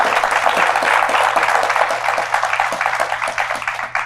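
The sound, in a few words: applause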